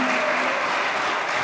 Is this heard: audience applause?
yes